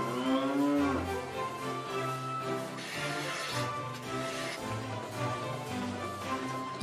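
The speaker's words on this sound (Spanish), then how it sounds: "Las vacas lecheras alimentadas a pasto natural y alfalfa son cuidadas hasta el extremo" Dairy cows fed on natural pasture and alfalfa moo close by, one long drawn-out low call followed by further overlapping lows, with no talking.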